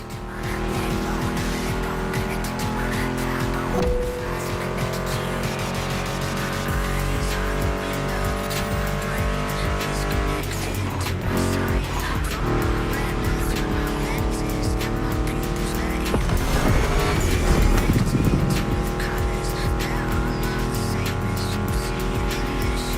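Powerful muscle car engines, including a Mustang GT, roar and rev in the video game The Crew Motorfest under loud, driving rock music, with a surge of engine noise and tire squeal near the end.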